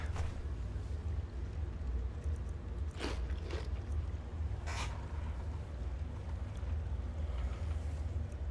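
Dog meat is eaten in the video game Skyrim: a few quiet, crunchy bites around the middle, heard over a low, steady ambient rumble.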